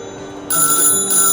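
A telephone rings with a bright electronic trill that starts suddenly and sounds loud and close over a steady background hum, with a brief break before it rings on.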